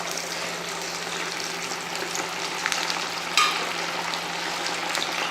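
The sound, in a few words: chicken pakoda frying in hot oil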